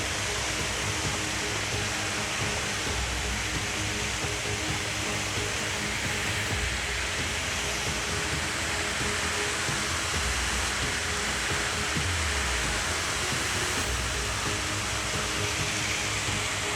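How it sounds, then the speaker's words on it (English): A waterfall beside a cave pours out a steady, full rushing roar that holds unbroken from start to finish, loud and close, with no voices over it. "We got this beautiful waterfall over here."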